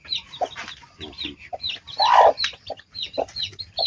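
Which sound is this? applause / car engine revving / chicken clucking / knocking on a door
chicken clucking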